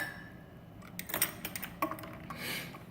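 Ice clinking and rattling as it's stirred inside a Yeti insulated mug, a quick cluster of small bright knocks and jingles over a quiet background, then settling.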